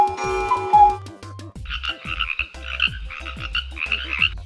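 Repeated frog croaks pulse steadily, one after another, over a soft rhythmic musical background.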